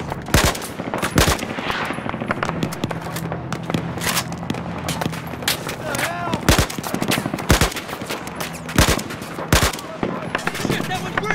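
Loud machine-gun bursts and sharp single gunshots crack at irregular intervals in Battlefield 4 combat, with voices speaking between the shots.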